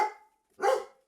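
A dog barks twice, two short separate barks a half second apart, fairly close and clear against quiet, with no talk.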